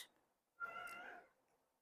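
A single drawn-out meow from a pet cat, near and clear, rising and lingering for about half a second in an otherwise quiet room.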